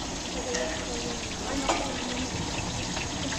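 Water poured from a container into a cooking pot, a brief liquid splash and trickle over steady kitchen background noise, with a person talking nearby.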